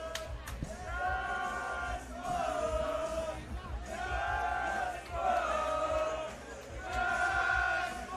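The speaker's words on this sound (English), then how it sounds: "Are the crowd chanting Jasper?" An arena crowd at an EFN fight event chants the fighter name Jasper in loud, repeated rhythmic bursts, voices swelling and dipping together in a reverberant hall.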